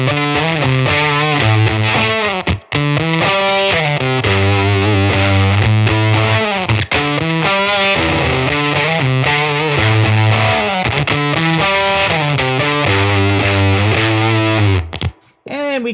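Electric guitar played through a Fairfield Circuitry 20% More slew-limiting distortion pedal with its blend control in use, giving a loud, continuous distorted riff of sustained chords and bends with brief gaps, no talking.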